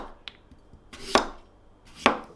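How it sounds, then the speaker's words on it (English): A knife slices potatoes into thin slices on a board, with three distinct crisp chops spaced about a second apart and quiet handling noise between them. "Now with your potatoes, you just want to cut them into nice thin slices."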